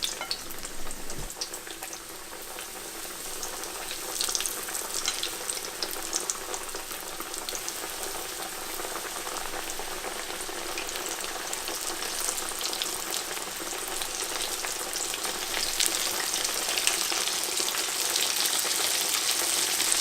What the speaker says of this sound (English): Before you start frying, you want the oil to get to about 325 to 350 degrees